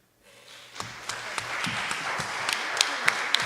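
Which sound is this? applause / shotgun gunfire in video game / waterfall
applause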